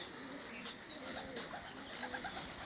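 Pigeons cooing softly at a distance in a rural yard kept with a rooster, repeated low rolling coos amid faint chirps and background hiss.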